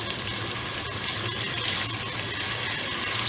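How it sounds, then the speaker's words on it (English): Water pours into a pan of cooking chicken for a chicken jalfrezi macaroni dish, giving a steady, fairly close rushing hiss that holds evenly for about three seconds, with no talking. "And now we're going to add water in."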